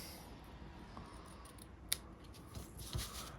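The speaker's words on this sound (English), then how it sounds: "grab my snips one more time, and then I can then just cut that off at an angle" Snips cut craft material for flower stamping at an angle in a quiet room, with one sharp, crisp snip standing out against faint background hiss.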